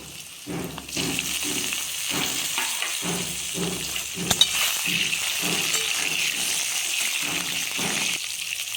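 Egg added to a pan for an aloo-begun fish curry, frying and being stirred: a steady sizzle under rhythmic scraping and shuffling strokes, with a single clink near the middle.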